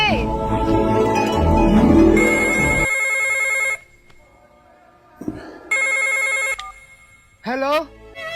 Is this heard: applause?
no